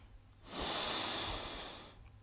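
A slow, deep breath during a power yoga session: a soft, airy inhale-exhale swell rising over about a second and a half and then fading, close and fairly quiet with no talking.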